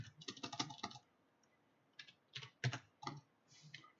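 Bursts of computer keyboard typing, quick clusters of key clicks separated by short pauses, close and fairly quiet.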